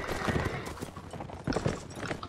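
Horse hooves gallop in a Mount & Blade: Warband battle, a steady clip-clop rhythm that stays close and fairly loud throughout, with brief noisy surges midway and no voices.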